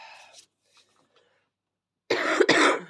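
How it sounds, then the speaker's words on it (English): A person gives a loud, close cough in a quiet room, one harsh burst with a second short hack near the end, following a brief stretch of near silence. "Excuse me, I do have a cough"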